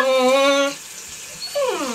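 A dog whines and whimpers while being bathed indoors, one long high wavering whine followed after a short pause by a shorter falling whimper, close and fairly loud with no talking.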